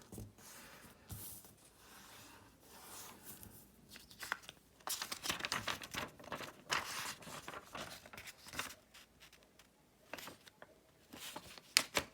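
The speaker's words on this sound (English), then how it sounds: "I'll just divide the paper up." Origami paper being folded in half and creased, with rustling, crinkling and sharp pressing sounds arriving in bursts, louder through the middle and near the end, close up with no talk.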